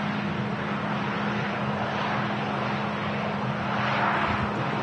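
A KLM airliner at Manchester Airport rumbles at moderate distance, a steady broadband engine roar with a low hum that swells slightly toward the end, with no talk over it.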